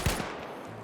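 A single sharp gunshot in a shooter video game cracks close and loud, then fades into a brief echoing tail.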